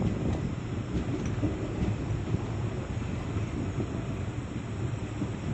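Balurghat–Sealdah Express arriving at Farakka Junction, heard from inside as a constant low rumble and rattle with wind-like noise, steady and unbroken, with no voices.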